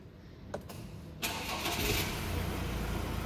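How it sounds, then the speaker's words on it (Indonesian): The diesel engine of a 2023 Ford Everest Titanium SUV cranks and catches, then settles into a steady, smooth idle that continues to the end. "suara dieselnya nih halus banget ya"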